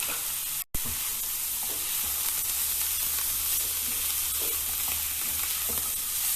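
Chopped onion and green chilies sizzle steadily in a hot pan for a spicy onion paratha filling, a dense continuous frying hiss with occasional stirring scrapes and a brief dropout early on.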